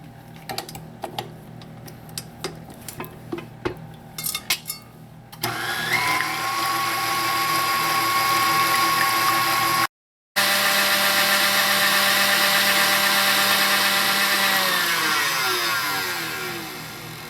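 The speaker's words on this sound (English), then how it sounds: "Add your egg whites to your mixer. You're going to beat these until they form soft peaks." An electric stand mixer beats egg whites toward soft peaks. A few clicks and taps come first, then a loud, steady whirring motor hum, briefly cut off, then resumed and winding down near the end.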